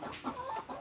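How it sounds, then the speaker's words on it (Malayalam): Chickens kept in a coop give a brief, soft clucking call, faint and close, lasting under a second with no talk over it. "അപ്പോൾ എനിക്ക് ഈ കോഴികളുണ്ട് കേട്ടോ"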